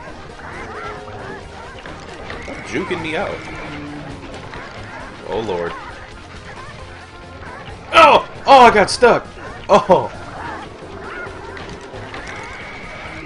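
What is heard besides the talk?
chickens clucking in video game Sly Cooper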